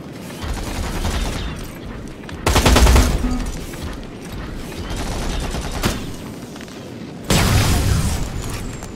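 Gunshots in the video game Terminator Resistance fire in two loud, heavy automatic bursts, with quieter rumbling combat between them and a little talking.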